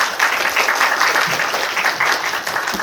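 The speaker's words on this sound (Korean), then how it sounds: "나오실 때 큰 박수 부탁드리겠습니다." A university forum audience gives warm, continuous applause as a project director walks up to give opening remarks, a dense even wash of clapping at steady loudness throughout.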